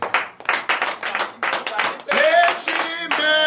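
During a morning prayer service in Benin, a congregation on its feet claps and shouts acclamations. The crowd sound is dense and lively, and a loud voice carries over it before the sound shifts toward singing.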